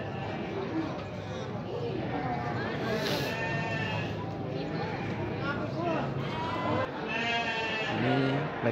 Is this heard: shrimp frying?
no